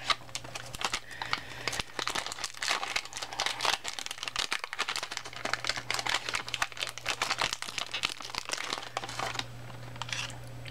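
A Yu-Gi-Oh! Dice Masters booster pack is torn open and handled up close, with a continuous run of crinkling and crumpling foil wrapper plus occasional tearing, loud and busy throughout.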